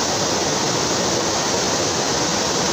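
Umbrella Waterfall pours down into a pool with a loud, steady, broadband rush of falling water, close and continuous, and no voices are heard over it.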